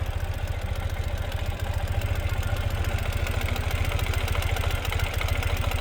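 A 2017 Ural Gear Up 2WD sidecar motorcycle engine idles steadily nearby, a fast even putter with a smooth, unchanging rhythm and no voices.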